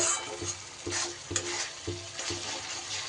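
Spice masala frying slowly over low heat in oil and ghee for a Bengali katla fish curry, a soft steady sizzle broken by regular scraping stirs of a spatula, close and without talk.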